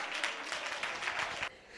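Audience clapping hands during a Tamil Christian prophetic sermon, a faint, fairly steady patter of applause that swells in waves and cuts off abruptly near the end.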